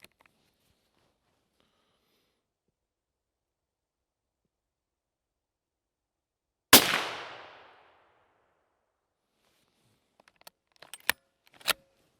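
A single loud rifle shot cracks out at a muntjac deer in woodland brash, its echo fading over about a second, followed later by a few faint metallic clicks.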